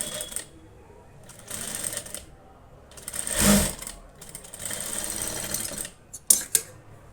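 A sewing machine stitches piping onto a blouse neckline in short bursts of rapid mechanical whirring separated by pauses, close up with a sharp clack near the end.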